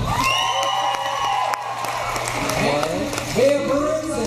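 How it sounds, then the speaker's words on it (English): An audience applauds and cheers for a dance steppers team, a short burst of clapping and whoops with someone talking over the crowd. "give them another big round of applause"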